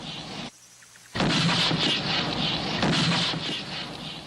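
Mortar fire in the Vietnam War setting, a short quiet gap broken by a sudden loud blast that rolls on as a sustained rumble of repeated heavy impacts, close and dense, with no voices.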